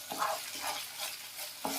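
Schezwan sauce with added sugar simmers in a pan, heard as a few soft bursts of bubbling and stirring over a quiet background.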